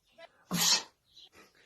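One loud, forceful sneeze bursts out, surrounded by brief quiet voice sounds.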